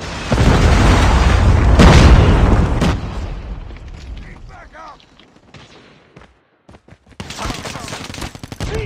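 A predator missile explodes in a shooter video game fight: a loud opening blast tangled with rapid gunfire that fades away, then more short bursts of shots toward the end.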